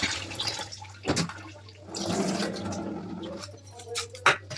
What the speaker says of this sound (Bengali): আর একটু বেশি জল দিয়ে দিতে হবে, ছোলাটা ফুললে যাতে জল থাকে তার মধ্যে